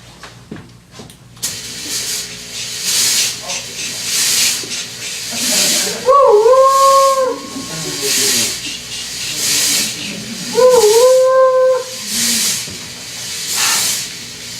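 Steam hisses in loud rhythmic bursts from a train, with two long whistle blasts rising over the chuffing.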